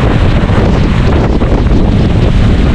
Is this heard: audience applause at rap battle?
no